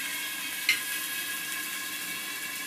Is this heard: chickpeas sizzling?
yes